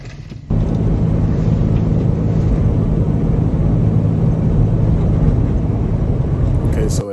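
Steady, loud low-frequency rumble of a moving truck, droning continuously with no change in level after a brief quieter moment at the start.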